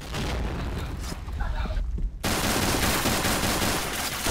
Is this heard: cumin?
no